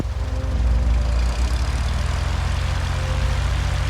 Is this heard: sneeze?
no